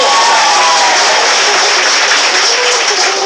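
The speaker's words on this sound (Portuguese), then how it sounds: "pode aplaudir mais forte que as palmas foi bem fraca" Loud, dense applause from a church congregation during a sermon on family deliverance, a steady wash of many hands clapping that fills the whole stretch without a break.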